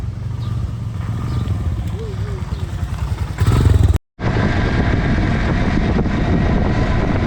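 Motorcycle engines idle and rev loudly close by as loaded touring bikes get ready on a South India ride, with one rider arriving; a steady engine drone runs throughout, broken by a short gap.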